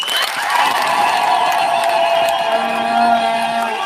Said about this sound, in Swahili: Shangilia kwa makofi